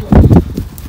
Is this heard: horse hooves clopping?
yes